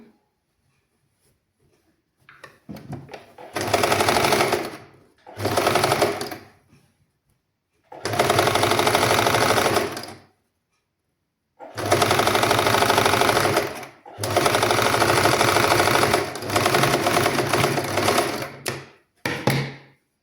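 A sewing machine stitches fabric in straight seams during a basic tailoring lesson, running in several loud, close bursts of rapid mechanical whirring with short silent pauses between them.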